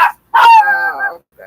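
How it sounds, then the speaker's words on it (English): A dog in an RV gives a couple of loud, close barks that turn into a drawn-out whining howl, then a short final yelp. "Don't go barking."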